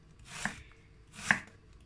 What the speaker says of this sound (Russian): я нарезаю лук полукольцами